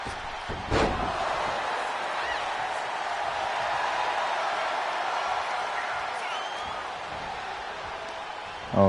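A wrestler stomps on an opponent in the ring, one sharp slam near the start and another at the end, over a steady roar of the watching crowd.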